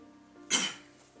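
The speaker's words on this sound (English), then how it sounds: "Coughing a lot today." A single short, close cough bursts out once over a quiet indoor background, with no speech around it.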